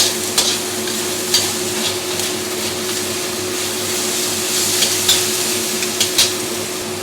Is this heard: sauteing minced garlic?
yes